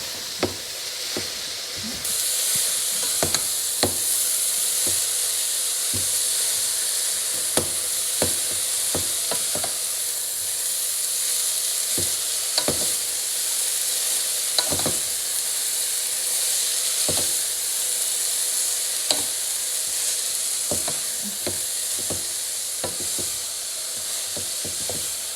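Spinach for a Kerala thoran sizzles and hisses steadily in a hot pan. Frequent sharp scrapes and taps of a stirring spoon cut through the continuous frying noise.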